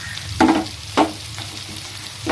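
Onions and crushed garlic sauté in a clay pot for a prawn dish, with a steady soft sizzle broken by sharp, close scraping strokes of a stirring spoon.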